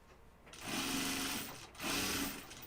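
A sewing machine stitches fabric for a Wallaby pattern garment in two close, steady bursts of motor whir, separated by a short pause, with no talking.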